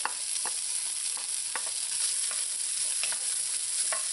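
Carrots and celery sautéing in hot oil for a lasagna meat sauce: a steady, close sizzle, with soft stirring scrapes recurring throughout and no talking.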